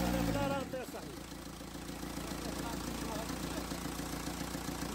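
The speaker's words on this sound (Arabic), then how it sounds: "المهم الموتور سخن في 90 وما كاين لا فيماج لا والو، راه الموتور جديد فقط." A freshly rebuilt engine in a VW Passat or Golf 4 idles, a steady, even mechanical hum with a slight rhythmic tick that continues throughout after a brief louder opening.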